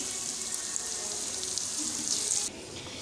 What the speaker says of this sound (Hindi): अब हम इसको 2 मिनट फ्राई करेंगे।